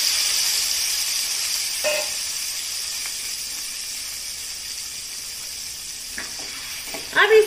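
Moringa drumsticks fry in hot oil with turmeric and chili powder for a masala curry, giving a steady, close sizzling hiss with a few brief stirring clatters near the end.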